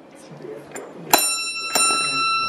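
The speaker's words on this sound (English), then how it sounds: "Can I ring the bell?" A metal bell is struck twice, each strike leaving a bright ringing tone that sustains; faint voices can be heard before the first strike. Recorded in Vila Nova de Milfontes, Portugal.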